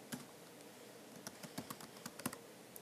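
Quiet keystrokes on a computer keyboard as a short word is typed, a dozen or so soft clicks in an uneven burst, close and faint with no talking.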